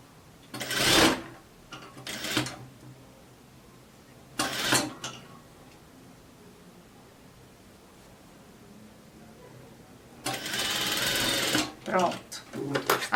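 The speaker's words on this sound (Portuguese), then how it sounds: "Aí vai costurando até aqui na parte de cima, aqui do outro lado" A sewing machine stitches the sleeve seam of a double-sleeved gypsy-style dress, running in several short bursts with quiet pauses between them and one longer run near the end, with someone talking in between.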